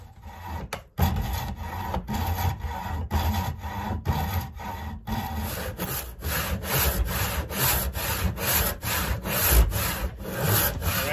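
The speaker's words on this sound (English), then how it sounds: "what I'm going to try to do now is cut my kerf" A hand saw cuts a kerf into a wooden axe handle for an 1800s broad axe, with close, loud rhythmic back-and-forth strokes that quicken in the second half.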